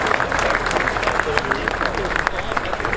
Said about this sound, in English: applause for the winner, Stefan Ivarsson, in the Sonett category.